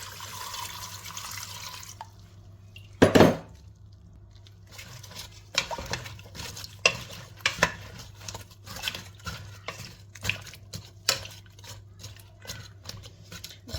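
Cold water and lemon juice poured into an artichoke tajine, a brief splashing pour followed by a series of irregular drips and small liquid taps at close range.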